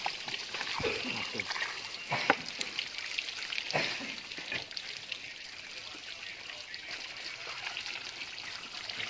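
Onions or shallots frying in a pan, a steady soft sizzle with occasional crackles and clinks, fairly faint, with voices talking over it at times.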